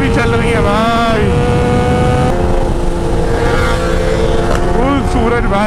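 Kawasaki ZX-10R and BMW S1000RR 1000cc superbikes rev hard while wheeling on a highway, their engine notes rising and falling loudly and continuously under excited talk.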